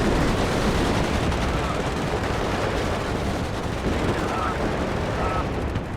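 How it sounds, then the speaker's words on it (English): Artillery strike explosions in the WARNO war game, a dense continuous roar of blasts and rumbling impacts with scattered gunfire, loud and sustained throughout, with a voice talking over the battle. "that drove right into my artillery strike on the backside there"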